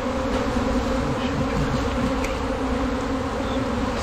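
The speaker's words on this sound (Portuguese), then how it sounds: "Aqui tem muita abelha." A dense swarm of Apis honey bees buzzes steadily around a fallen tree trunk, making a continuous, loud, close-up hum with no pauses and no talking.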